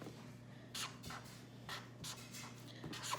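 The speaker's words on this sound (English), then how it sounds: "I'm going to write this in word form." A pen scratches a number onto paper in a few short, quiet strokes with pauses between them, over a low steady hum.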